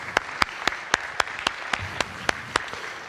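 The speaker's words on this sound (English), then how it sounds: "please join me to a round of applause to our dealers, shufflers, pit bosses" Scattered hand claps from a small audience at a live casino industry event, with distinct individual claps standing out at a fairly regular pace over a soft background of room noise.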